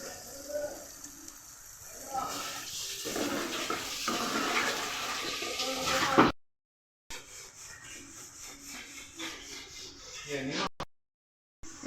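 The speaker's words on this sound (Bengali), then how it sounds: "জল দিয়ে দেবো তেলটা এসছে জল দিয়ে দেবো" Water splashed into hot oil in a pan while cooking prawn curry sets off a loud, steady hissing sizzle that cuts off briefly and then carries on at a slightly lower level.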